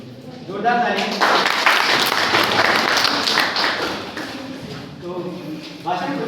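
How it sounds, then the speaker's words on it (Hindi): At a college prize ceremony for a speech competition, an audience breaks into loud, dense applause for a few seconds, fading slightly before speaking resumes at the start and end. "जोरदार ताली।"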